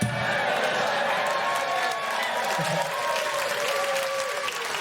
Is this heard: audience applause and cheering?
yes